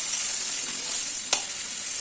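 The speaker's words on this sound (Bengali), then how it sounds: "বেগুনটা একটু লাল করে ভেজে নেবেন দু থেকে পাঁচ মিনিট ধরে" Eggplant pieces frying in oil in a pan until browned, giving a steady, even hiss with one brief sharp click partway through, close and moderately loud.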